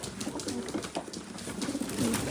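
Pigeons coo softly in repeated low, throaty calls, several birds close by over a faint background hum.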